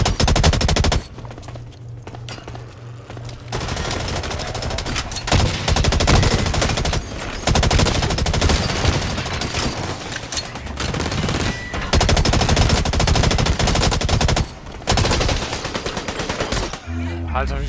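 Loud, sustained automatic gunfire in the game Blacklight: Retribution, rapid bursts rattling almost continuously with brief gaps, dense and close throughout.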